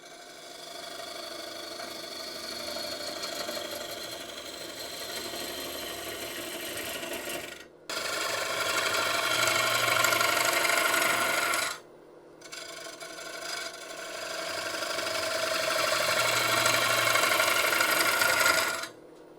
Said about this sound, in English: You can see I'm just taking a series of cuts about a 3/4 inch deep.